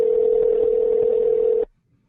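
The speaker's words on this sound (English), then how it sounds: "it is ringing." Telephone line tone on a call, a single loud steady electronic tone held for over a second and a half before cutting off abruptly into silence.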